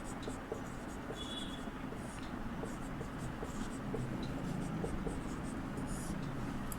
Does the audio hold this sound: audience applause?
no